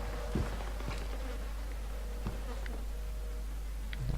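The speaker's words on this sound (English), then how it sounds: "Nasty buzzing flies." Flies buzzing in a grimy setting in the horror game Outlast, a steady low drone of several insects with a few brief louder passes close by, no voices.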